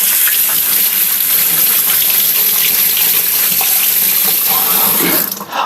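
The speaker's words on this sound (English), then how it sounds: "let me just give my hands a little rinse." Tap water gushes steadily into a kitchen sink as hands are rinsed, a loud, close, continuous splashing that cuts off abruptly at the end.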